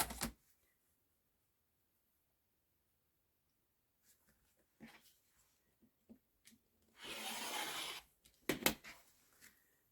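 A rotary cutter slices quilt fabric along a ruler in one short, scraping swipe, surrounded by near-silence and a few soft taps and handling noises.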